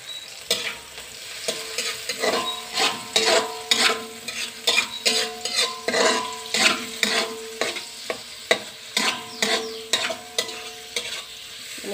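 Cassava leaves being stir-fried in a pan, heard as a steady sizzle under repeated rhythmic scraping strokes of the utensil against the pan, close and clear, with no talking.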